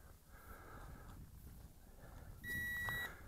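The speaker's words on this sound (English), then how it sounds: "Well, we heard the beep." A ZLRC SG906 GPS Pro camera drone emits a single steady electronic beep during compass calibration, a bright sustained tone lasting about half a second over faint background noise.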